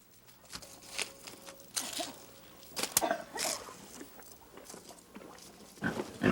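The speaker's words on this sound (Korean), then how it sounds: "지금 집 앞마당에선 한바탕 소란이 벌어졌다. 전통 음식인 모차를 만들기 위해 돼지를 잡는 것이다." A pig squeals and shrieks in loud, repeated bursts while being slaughtered in a farmyard for a traditional dish, with broken gaps between cries and faint background noise.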